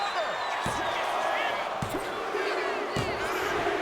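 A body slam onto the wrestling mat from a spinebuster in the WWE 2K25 wrestling game: a few sharp thuds stand out over steady crowd noise, with commentary voices talking throughout.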